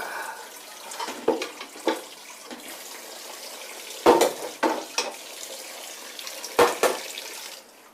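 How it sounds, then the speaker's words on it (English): Cold water runs from a kitchen tap over a coriander-topped chicken curry, a soft continuous splash broken by a few louder clattering bursts, with no talk. "Run a little bit on cool water."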